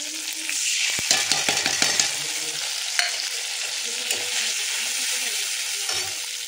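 Tomatoes and spice paste sizzle and bubble in a pan while a Bengali drumstick, potato and pumpkin curry is cooked. A steady frying hiss runs throughout, with a cluster of spoon-on-pan clinks and stirring scrapes early on, close and clear.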